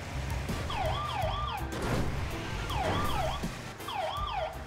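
Ambulance siren in the GTA RP video game wails in repeated rising-and-falling sweeps, three cycles over a steady, loud background of traffic and engine rumble, with no talk.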